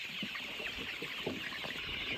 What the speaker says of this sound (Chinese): 又下雨，咱们去喂鸡。